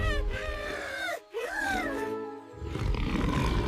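A long, drawn-out cartoonish roar with a wavering, rising and falling pitch, loud and close, followed by a rumbling growl.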